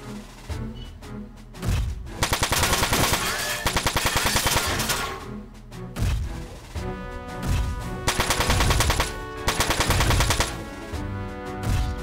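Machine gun fire from the PS2 game Front Mission 4 comes in loud, rapid bursts repeated several times, alternating with a backing music track and heavy impact sounds, with no talking.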